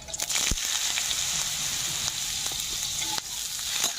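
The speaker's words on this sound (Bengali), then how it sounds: "আদাটাও আমার ভাজা ভাজা হয়ে গেছে এখানে কুচে রাখা আলু দিয়ে দেবো" Chopped potatoes fry with ginger and spices in a hot pan, giving a close, continuous sizzle broken by a few sharp clicks of stirring, with no voices.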